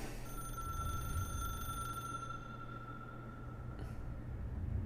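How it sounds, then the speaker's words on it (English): A telephone rings with a sustained electronic tone, moderately loud against a steady background hum, then cuts off near the end of the stretch; no one speaks over it. "The phone."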